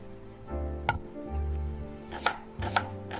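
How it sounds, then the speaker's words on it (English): An onion being chopped on a board with a knife, a few separate chops and taps heard up close over a steady low background hum, with no speech. "I chop the onion."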